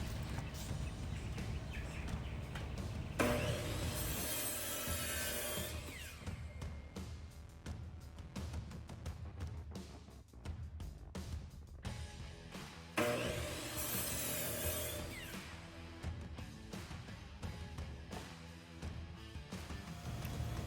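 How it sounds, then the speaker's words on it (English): Mahogany boards for a ukulele stand being cut to rough length, a steady rasping saw cut running close and loud, with two distinct bursts of cutting separated by quieter working noise. "I'm cutting 2 pieces to rough length to give plenty of material to cut out my shape later."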